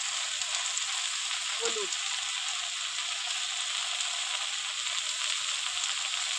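Shrimp fry in a pan of beto shak greens, giving a steady, even sizzle throughout while a voice speaks briefly.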